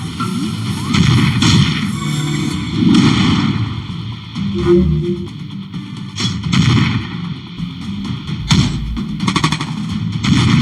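Loud, dense bursts of robot gunfire and booming impacts in the mobile game Last Fortress: Underground fill the clip, continuous and rumbling with occasional sharper blasts.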